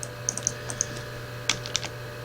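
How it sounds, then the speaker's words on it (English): A handful of light computer keyboard key presses click irregularly over a quiet background hum, close by. "Pushed the wrong button on the keyboard there."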